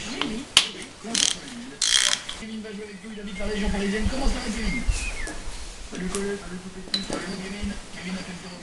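A ratchet works on the 13 mm bolts holding the injection pump of a 2000 BMW 530d E39 engine, with a few quick bursts of clicking near the start, then someone speaks over faint workshop noise.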